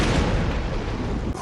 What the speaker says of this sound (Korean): 연이은 폭발음이 동네를 뒤흔듭니다